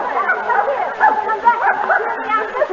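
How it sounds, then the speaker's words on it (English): A dog barks and yips in an old 1936 radio drama sound effect, a steady run of short barks mixed with voices talking over it. "you can't bring that dog in here"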